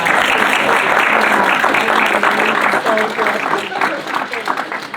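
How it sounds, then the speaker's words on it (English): An audience applauding at an event, a dense, sustained clatter of clapping that slowly thins toward the end, with voices mixed in. "Let's give her another big round of applause."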